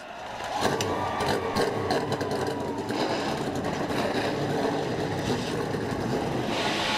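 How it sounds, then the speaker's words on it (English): NASCAR race cars at Dover International Speedway fire up their engines together, a dense roaring drone that swells in after a brief quiet start and holds steady and loud to the end, with no talk. "Drivers, start your engines!"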